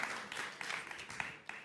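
Scattered hand claps from a small audience at a social media summit, a handful of distinct claps rising and fading, faint and distant.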